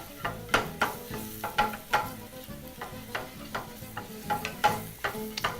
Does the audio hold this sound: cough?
no